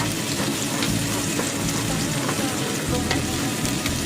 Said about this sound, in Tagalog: Gisa-gisa muna.